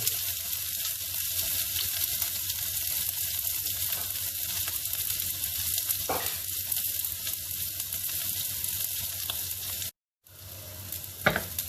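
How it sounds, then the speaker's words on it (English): Steady, loud sizzling of carrots and sweet corn frying in a hot wok, continuous crackle throughout with a brief pause near the end. "once it's been frying for a while"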